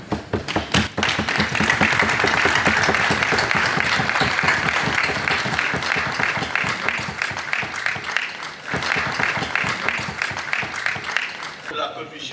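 Loud, rhythmic applause and cheering fill a senate chamber in the DRC during a plenary session validating newly elected senators, steady for most of the stretch before tapering off, with speech mixed in.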